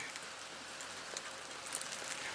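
Steady rain falls outdoors in an even, continuous hiss, fairly soft and close, with faint scattered drops and no voices.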